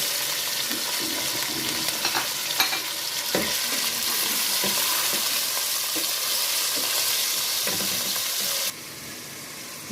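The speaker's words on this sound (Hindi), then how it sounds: "जब तक हमारा कीमा थोड़ा सा फ्राई हो रहा है" Ground meat (keema) fries steadily with garlic in a pan, a dense continuous sizzle broken by scraping stirs and spatula knocks, with no voices; the sizzle drops sharply quieter near the end.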